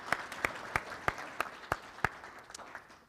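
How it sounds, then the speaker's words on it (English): An audience at an annual meeting claps for Brandon in a fairly quiet round of applause, with a handful of sharper individual claps standing out at a steady rhythm over a soft, continuous patter. "So we should give a round of applause to Brandon."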